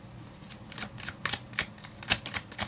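Tarot cards being shuffled by hand, a close series of quick papery riffles and flicks in an uneven rhythm, with no talk.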